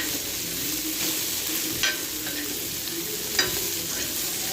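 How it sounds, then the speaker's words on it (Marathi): Garlic and ginger roast in a hot pan for a spicy goat-meat dish, a steady close sizzle and crackle with a couple of sharper scraping stirs. "आता आणि लसूण अद्रक पण याच्यामध्ये थोडीशी भाजलं जाते बघा"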